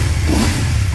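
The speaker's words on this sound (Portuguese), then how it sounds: "agora que baixou a lenta, ó, repara no barulho do motor. Ela é bem mais barulhenta," A motorcycle engine idles close by, either a Yamaha MT-09 Tracer or a BMW F750GS, giving a loud, steady, low rumble with a slight throb and no talking.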